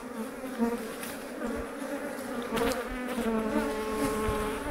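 Honeybees hum steadily at the entrance of a hive in French Guiana as they bring in orange pollen, a dense, close buzzing drone with individual bees zipping past near the microphone.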